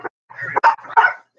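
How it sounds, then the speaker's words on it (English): A dog barks indoors in a short burst of three or four close, loud yips and woofs in quick succession, near and clear. "You want to tell me what you're barking at?"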